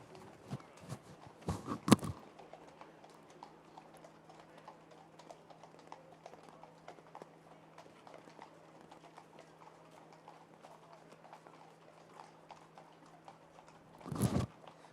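Hooves of a four-year-old Irish sport horse stallion clip-clopping at a horse show, faint and sparse, with a couple of louder bursts near the start and end.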